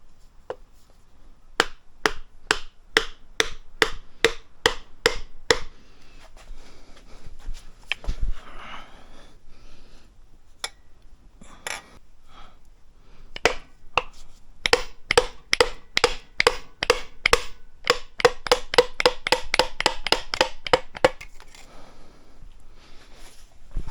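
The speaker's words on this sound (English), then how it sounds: "And then I should be able just to drive that piston down." Piston being tapped down into the bore of a Ford 302 short block in a shop, dozens of sharp, evenly spaced knocks in two long runs with a brief pause between them, some strikes quicker and denser toward the end.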